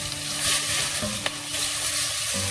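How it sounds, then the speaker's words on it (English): Chickpea flour frying with cumin in a pan for matar paneer curry, a constant dense sizzle with scraping stirring strokes and one brief sharp tap over a low hum. "We need to fry this for about a couple of minutes for our besan or the chickpea flour to cook."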